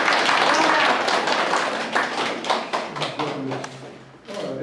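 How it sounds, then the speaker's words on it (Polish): Audience applause at a children's library reading contest in Sieroszewice, Poland; a steady patter of many clapping hands in a hall that thins out, with a voice speaking over the end. "Wielkie brawa, proszę Państwa, dla wszystkich."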